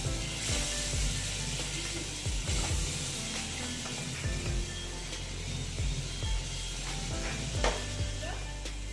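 Masala with potatoes being sautéed in a pan with a splash of water, a low bubbling sizzle under repeated scraping strokes of a spatula at an unhurried rhythm.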